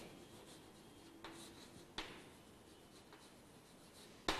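Chalk or marker scratching on a classroom board, with soft continuous strokes and a few sharp taps at intervals, close by and alone.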